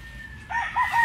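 A young gamefowl stag crows in a stag cording area, a short, strained, rising call heard up close over faint farmyard background.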